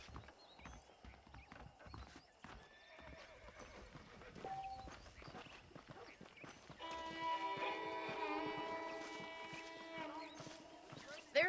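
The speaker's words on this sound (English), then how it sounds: "The horses are saddled up over here." Saddled horses in the Western video game Red Dead Redemption: hooves clip-clop and a horse whinnies amid scattered movement, with sustained music swelling in over the second half.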